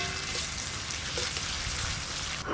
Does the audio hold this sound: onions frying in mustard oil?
yes